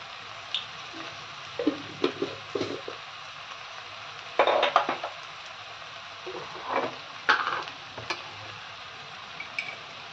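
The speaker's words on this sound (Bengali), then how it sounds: "এইবারে আমি এতে মশলাগুলো মিশিয়ে দেবো" Salt and spices being stirred into frying food in a pan: a soft background sizzle with scattered clinks and scrapes of a spoon against the pan, irregular and fairly close.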